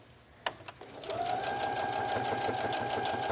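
A sewing machine stitches steadily around a curve on a travel bag, a continuous close whirring hum after a few short clicks and starts at the beginning.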